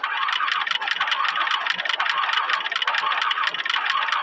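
An old, worn Toyota car engine running just after starting, with a steady rattling, clattering mid-pitched drone that stays loud and close throughout, with no voices over it.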